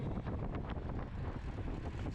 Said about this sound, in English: It's windy. Crosswind. Cross headwind here.